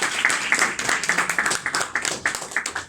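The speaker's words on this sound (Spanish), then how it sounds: "Un fuerte aplauso para Raúl." Applause for Raúl, a doctor from El Salvador, at a poetry conversation evening at La Esquina Rosada: a small audience claps in quick, distinct, fairly close beats that hold steadily for a few seconds.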